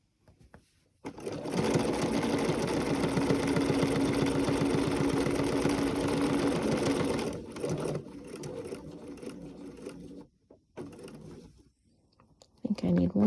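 Sewing machine stitching quilt binding ends, a fast rhythmic whirring run of about six seconds, then short bursts of stitching with pauses between.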